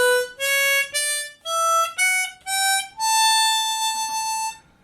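A diatonic harmonica in standard Richter tuning climbs one note at a time from hole 1 to hole 7, seven bright reedy tones with short gaps, the final note held longest.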